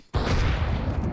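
A single loud gunshot in a video game, an abrupt booming blast that rings out and sustains as a rumbling tail for about a second.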